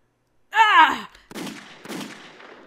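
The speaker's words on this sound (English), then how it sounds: "Another gunshot." A wailing cry gives way to two sharp, reverberant gunshots a moment apart in the Steam Prison video game, each burst decaying into an echoing tail.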